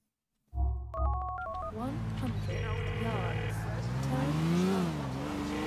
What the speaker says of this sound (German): Oh, wir rufen gerade schon jemanden an.